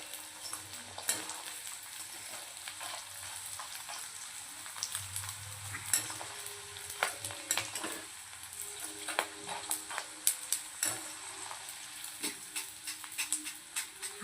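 Edible gum (dink) frying in a pan over low heat until reddish and puffed, for dry-fruit laddoos: a steady close sizzle with frequent soft stirring scrapes and clicks, no voices.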